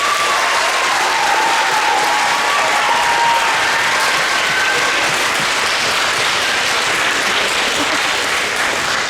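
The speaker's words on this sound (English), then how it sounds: "let's give your parents and families a massive round of applause" A middle school band concert audience gives a big round of applause for parents and families, a dense, steady roar of clapping that holds at full strength throughout.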